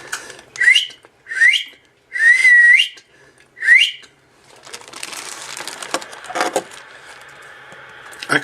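A person whistles into a Uniden 980 SSB radio, four short rising whistle tones heard through the speaker with gaps between. Then come handling clatter, static and a steady electronic tone.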